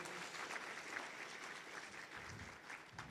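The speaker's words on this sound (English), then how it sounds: "A round of applause for those." An audience at an innovation summit applauds the masters of ceremonies, a steady, even wash of many hands clapping, heard faint and distant throughout.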